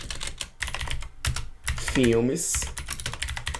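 Computer keyboard typing a movie request into a film recommender: quick, uneven clusters of key clicks close by, with a person speaking over them.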